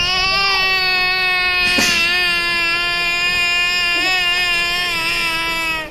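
A child imitates crying with a sustained, wavering, high-pitched wail that holds for several seconds, close and loud, with a brief sharp catch near the start.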